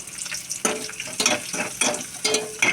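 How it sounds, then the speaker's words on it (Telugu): Garlic fries in oil with mustard seeds, fenugreek and cumin, sizzling steadily up close while stirred in the pan, with regular scraping bursts about every half second. "వెల్లుల్లిపాయ చూసారా చక్కగా వేగుతుంది"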